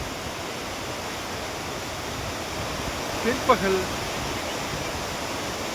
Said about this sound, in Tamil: மெயின் அருவி பழைய குற்றாலம்